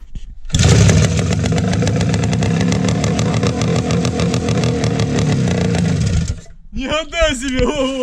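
A homemade dune buggy's small engine runs on only one of its cylinders, a loud, steady, rough buzzing drone close by that cuts off abruptly near the end, followed by brief voices.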